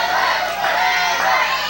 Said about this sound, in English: Man, listen to this crowd.